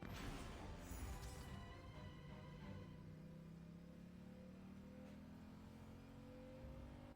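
A motorcycle engine in the video game Genshin Impact holds a steady, throaty drone whose pitch slowly climbs as it revs, running continuously and fairly loud with no talking over it.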